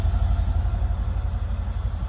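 Mercedes SL63 AMG with quad exhaust in sport mode, a steady deep low exhaust grumble at idle, close and continuous with no speech.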